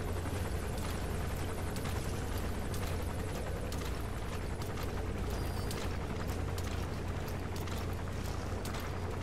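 A helicopter's steady rotor drone and whine fill the scene in Metal Gear Solid V: The Phantom Pain, loud and constant, with a faint mechanical hum underneath.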